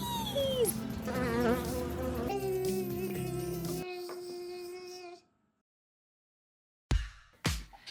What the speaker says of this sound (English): Look at our bees!